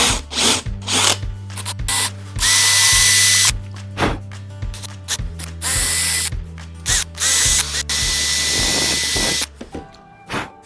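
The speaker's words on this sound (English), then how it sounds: "You want to make sure you hold your drill nice and level. And we're going to drill down 2 inches." A power drill with a 1/4 inch bit bores holes in pine: loud, close whirring bursts that start and stop repeatedly, with brief gaps and a steady motor whine under each run.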